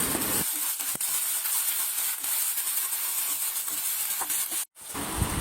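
Onion and garlic frying in a pan (kadai), a steady broadband sizzle and hiss running continuously, close and fairly loud, briefly cut off near the end before resuming.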